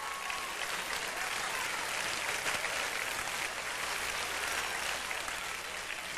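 An audience at Harlem's Apollo Theater breaks into sustained applause for a performer, a steady, dense crackle of many hands clapping that holds evenly from start to finish.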